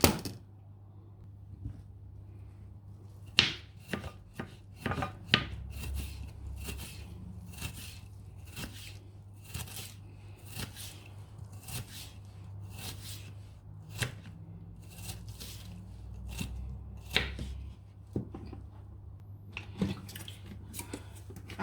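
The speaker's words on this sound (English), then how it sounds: "So I'm just going to go ahead now and chop my onions." Knife chopping onions into small slices on a board, a steady run of close, sharp taps that bunch into quick bursts and then thin out, with no talking.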